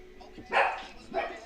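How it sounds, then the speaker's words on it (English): A dog barking indoors in two loud, close bursts, each sharp and agitated, with a short pause between them. "the dog goes crazy there"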